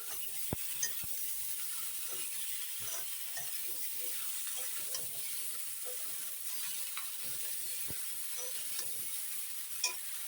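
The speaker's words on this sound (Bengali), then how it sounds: "এখন নেড়ে নিই" Mixed vegetables with a spoonful of sugar sizzle steadily in a pan while a spoon stirs through them, giving a constant close hiss broken by soft scraping clicks and a few sharper taps.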